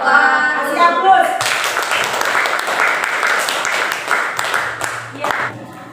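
An audience claps after a classroom presentation on hydrocarbon compounds, a steady patter of many hands rising after a spoken close and carrying on for several seconds, with a voice briefly over the tail.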